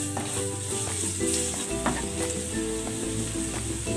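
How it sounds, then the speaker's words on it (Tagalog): Ginger sautéing in hot oil in a pan, a steady close sizzle running throughout with occasional spatula scrapes and pops, no talking. "Igisa na ako ng luya."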